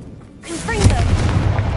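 Confringo spell blast in Hogwarts Legacy: a sudden heavy boom erupts after a quiet moment and rumbles on loudly, with a brief voice over the start of the blast.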